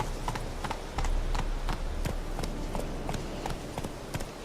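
Roach the horse's hooves clip-clop at an even, regular pace across ground in The Witcher 3, each step sharp and distinct over a low background rumble.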